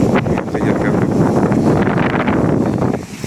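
Steady wind buffeting the microphone, a loud continuous rumbling roar that fills the whole clip.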